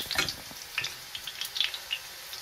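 A tortilla with quesillo cheese fries in a pan over medium heat, giving soft, scattered crackles and light sizzling pops, faint and irregular.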